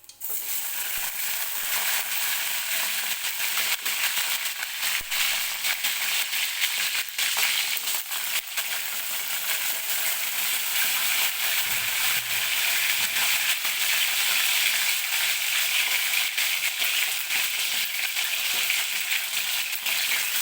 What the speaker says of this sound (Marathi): व्यवस्थित तेलामध्ये सुरुवातीला वांगी फ्राय करून घ्यायची.